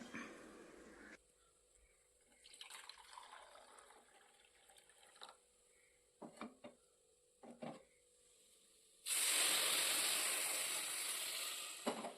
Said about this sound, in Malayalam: ഇനി തിളപ്പിച്ച വെള്ളം ചൂടോടുകൂടി തന്നെ രണ്ട് കപ്പ് ഒഴിച്ചു കൊടുക്കാം